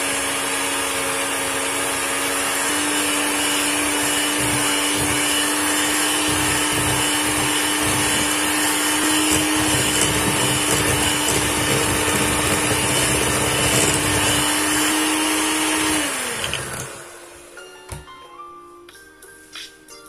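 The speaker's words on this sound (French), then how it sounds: "Je travaille au batteur électrique pendant 2 minutes." An electric hand mixer beats sugar, egg yolk and vanilla in a steady, loud whir with a constant pitch for about sixteen seconds, then winds down and stops, leaving faint clinks.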